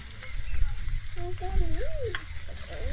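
Chunks of jackfruit and potato sizzle and fry with spices in a pan on low heat, with steady close stirring and crackling throughout.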